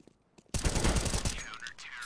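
Automatic gunfire from a Counter-Strike match on the Dust2 map in a professional esports game, a loud sustained burst of rapid shots starting suddenly after a quiet moment and lasting to the end.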